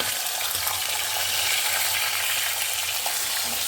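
Pork sizzling and frying in a pan, a steady dense crackle of hot oil that stays loud and continuous throughout, with no talking.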